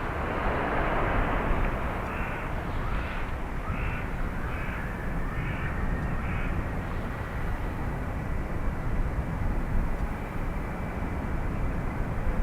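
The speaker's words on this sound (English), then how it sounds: "I'm going to bump the sound up for the Air Canada 777." An Air Canada Boeing 777 at Dublin Airport gives off a loud, continuous broadband engine roar that holds steady throughout, with a few faint crow-like caws near the start.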